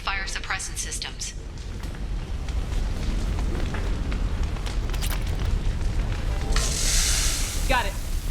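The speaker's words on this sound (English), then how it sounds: "these damaged pipes are on fire" Damaged pipes burn in Mass Effect 2, a steady roaring, crackling fire with hissing bursts and popping sounds that runs continuously, while a character's voice and other effects break in over it.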